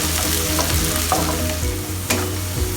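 Green beans sauté in a hot pan of oil for fried rice, giving a steady close sizzle with a few sharp clicks and scrapes from stirring, and no one speaking.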